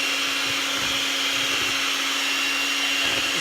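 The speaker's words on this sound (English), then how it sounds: "You can see your mixer moving through the thicker cream." Steady, continuous whir of a mixer beating cream as it thickens for herbal butter, a constant close motor drone with a high tonal whine and no break or talk.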